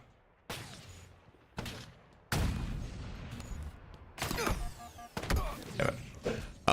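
Sniper rifle shots in a video game crack out in sharp, separated bursts, several distinct reports spaced a second or so apart, fairly quiet overall with faint ringing tails between them.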